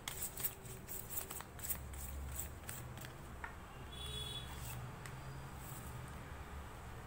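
Tarot cards are handled and shuffled close by, making quiet, brisk riffling and flicking at first, then softer sliding and rustling over low background hum.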